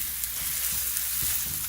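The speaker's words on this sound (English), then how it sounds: "Now we're gonna brown our sausage." Italian sausage browning in a pan for zuppa toscana, giving a steady, even sizzle with soft crackles throughout, close and moderately loud with no talking.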